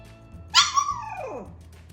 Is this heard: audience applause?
no